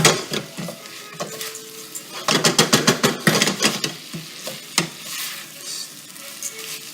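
Risotto rice is stirred and toasted in a pot, a close, lively sizzle with scraping spoon strokes against the metal and a rapid burst of stirring midway, then quieter frying as the strokes slow.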